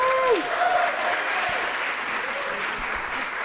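A live show audience gives performers a steady round of applause, a dense even wash of clapping with a brief high whistle or cheer at the start.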